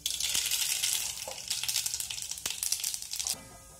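Cumin and mustard seeds sizzle in hot oil for an aloo bread kachori tempering, giving a steady hissing crackle with scattered pops before it quiets near the end.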